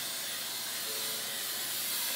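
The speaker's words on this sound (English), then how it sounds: "we're going to spray it with Pam or whatever cooking spray you have" Pam cooking spray hisses steadily from an aerosol can into a bundt pan, one continuous close-up spray lasting about two seconds.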